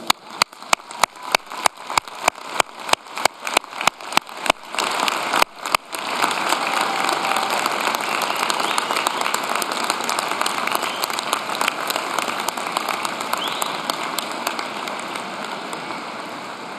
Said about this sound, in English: join me in a big round of applause for your family and friends for their great support